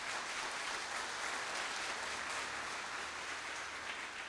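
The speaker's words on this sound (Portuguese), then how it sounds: "Vamos aplaudir a palavra de Deus." A church congregation applauds at a Catholic Charismatic Renewal gathering, a dense, steady wash of many hands clapping without pause and no voices on top.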